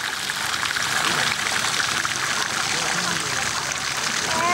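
Hot spring water, cooled from 95 to 45 degrees, runs steadily into a bath pool with a continuous close splashing rush and no break.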